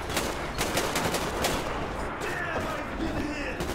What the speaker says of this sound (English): Oh, well, he got shot.